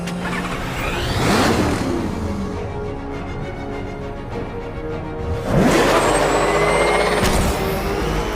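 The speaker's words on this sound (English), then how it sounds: "A squad car has picked up the pursuit." A police squad car engine roars through a pursuit in the Batman: Arkham Knight video game, loud and close, revving up sharply twice with a dip in between, under a steady low rumble.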